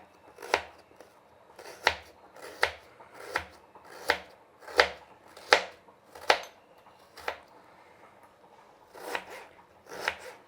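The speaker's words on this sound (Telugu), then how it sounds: "ఇక్కడ తాలింపుకి ఎర్రగడ్డ కట్ చేస్తున్నానండి." A knife chopping red onion into small pieces on a board for tempering, about a dozen crisp, evenly spaced close-up thuds with a short pause before the last few.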